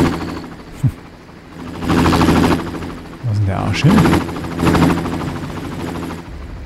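A loud helicopter in the Far Cry video game, whirring rotor noise rising and falling in waves, mixed with bursts of gunfire, while a voice talks over it.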